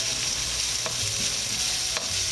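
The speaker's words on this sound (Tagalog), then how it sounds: "We stir fry, let it wait for the garlic to be a golden brown" Ginger and garlic slices stir-fry in hot oil for chicken curry, giving a loud, continuous sizzle with a few soft utensil scrapes and taps against the pan, no voices.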